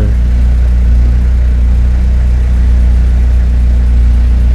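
A manual-transmission car's engine hums loud and steady from inside the cabin during a driving-lesson course, with a low constant drone and no distinct revving.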